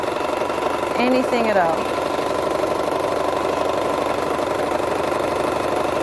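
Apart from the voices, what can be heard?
sewing machine stitching quilted placemat design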